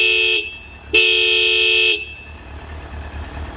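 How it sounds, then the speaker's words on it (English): Two loud blasts from the dual horn on a 2000 Honda CB1300 Super Four motorcycle. The first is short, and after a brief pause comes a longer blast of about a second, heard up close with no talking. "but this is the dual horn."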